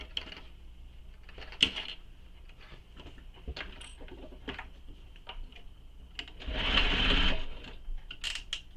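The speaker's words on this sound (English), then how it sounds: "And then sew this with the seam allowance given in the pattern." A sewing machine stitches the bottom panel of a fabric handbag, with a quick mechanical whir and ticking in short bursts and a louder sustained run near the end.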